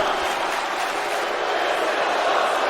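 A steady, dense roar of crowd cheering and applause from an arena audience in the WWE 2K20 wrestling video game, continuous and loud throughout the short stretch.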